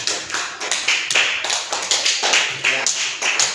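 Classroom of students clapping for a discussion group, loud close claps in a rhythmic, patterned beat, with a few voices underneath.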